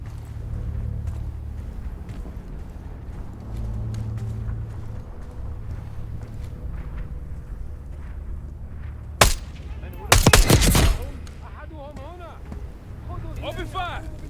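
Sharp bursts of gunfire crack over low engine rumble in a Call of Duty Black Ops 6 campaign mission: one loud shot, then a rapid, dense volley a second later, with voices speaking before and after.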